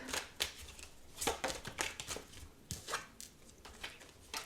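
Tarot cards are shuffled by hand in a quick series of soft, crisp riffles and taps, quiet and close, with no talking over them.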